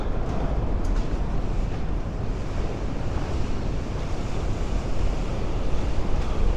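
Strong coastal wind and waves beside an abandoned cement factory right on the shore: a constant, loud roar of gusting wind against the microphone, blended with heavy surf, with no talking.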